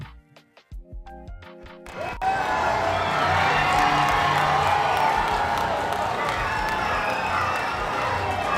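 Crowd cheering sound effect played on a live stream: after a few brief tones, a loud, sustained roar of cheering and clapping swells in and holds steady to the end.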